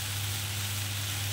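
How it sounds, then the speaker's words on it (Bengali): Egg and okra (bhindi) scramble frying in a pan, giving a steady, close sizzle with no breaks and no voices over it. "এইভাবে একটুখানি মিনিট 2-3 ধরে ভেজে নেব।"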